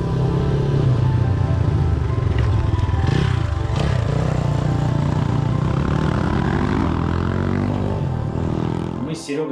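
Several motorcycle engines idle and rev steadily while warming up outdoors before a group ride to the Rybachy Peninsula in the Arctic, a loud continuous droning that cuts off abruptly at the end.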